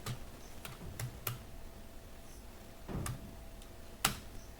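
Light, sparse typing on a computer keyboard, a few soft clicks in small clusters, close and quiet with no talking.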